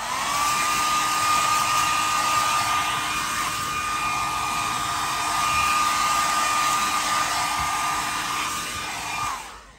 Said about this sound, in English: blow over with the hairdryer to remove any more sort of fine dust and particles and stuff like that